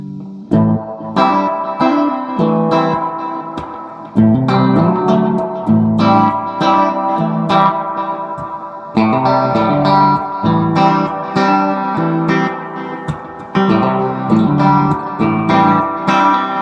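A Roland Space Echo RE-201 tape echo processes an instrument with its echo volume lowered and intensity raised, giving sustained tonal notes trailed by repeating echoes and a wash of reverb, played steadily and loudly throughout with no talking.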